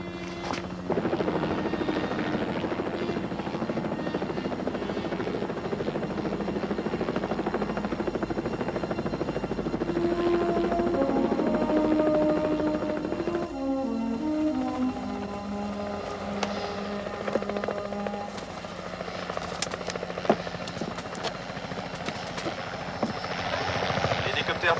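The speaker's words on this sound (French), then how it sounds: "C'est l'hélicoptère" Helicopter flying overhead, its rotor chop and engine whine holding loud and steady throughout, with a pitch shift partway as it passes, while people speak over it and short radio-style exchanges cut in.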